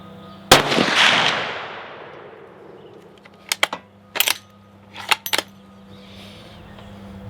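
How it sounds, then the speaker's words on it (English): Savage 400 Legend rifle fired at targets up a hill, one sharp loud shot echoing away, then a series of brief clicks and rattles of handling, no talking. "We could try a couple longer range shots here"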